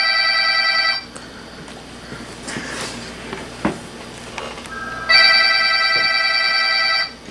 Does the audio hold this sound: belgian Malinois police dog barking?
no